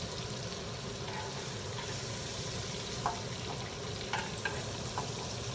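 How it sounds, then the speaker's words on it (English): Shrimp and bacon fry together in a pan, giving a steady, even sizzle throughout with a few faint clicks of a utensil near the end. "now the shrimp is already pink, so I'm gonna put them here with the bacon"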